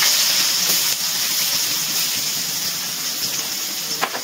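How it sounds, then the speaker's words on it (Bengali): Chopped onion tossed into hot oil with whole cumin seeds and dried red chilies, giving a steady, close broadband sizzle and hiss that eases slightly over a few seconds, with a small clink near the end. "পেঁয়াজটা একটু তেলে নাড়াচাড়া করে হালকা ভেজে নেবো"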